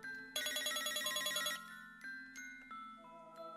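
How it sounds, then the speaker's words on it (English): Telephone ringing inside the video game I Like You: a rapid electronic ring burst with a trilling, pulsed pattern, then sparser tonal chimes fading out, with no talking. "The phone."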